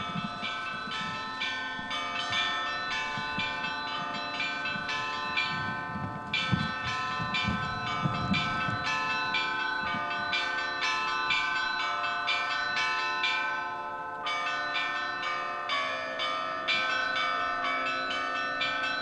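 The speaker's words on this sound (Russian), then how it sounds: "Пасхальный звон имеет особое название – тризвон." Easter trezvon rung on the bells of an Orthodox cathedral: a dense, loud peal of overlapping bells, split into three sections by two short pauses, with heavier low strokes rolling beneath the bright ringing.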